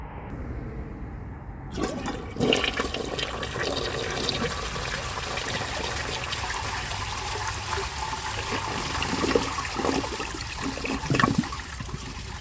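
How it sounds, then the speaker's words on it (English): A 1981 Eljer Murray 3.5 gallon toilet with a standard flapper, filled to the water line, flushes after a quiet start: a loud, close rush of water that roars and swirls steadily for about ten seconds without fading. "So let's give it a flush and see how it does on tests."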